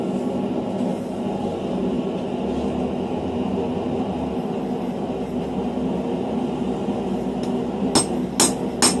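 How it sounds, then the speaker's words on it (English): Steady low rumble of ongoing forge work when making a knife, ending with a few sharp, ringing strikes of a ball peen hammer on the blade in the last second or two. "I don't frequently use this ball peen hammer."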